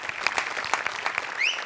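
An audience applauds a comedy sketch on a Marathi comedy stage show, with loud clapping pulsing in bursts over about two seconds and a brief high sweeping tone near the end.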